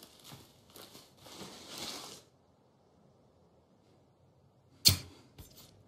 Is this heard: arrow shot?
yes